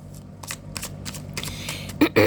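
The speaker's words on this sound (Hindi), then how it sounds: "last shuffle" Tarot cards being shuffled by hand in a series of quick, close riffling bursts, ending with a couple of louder slaps.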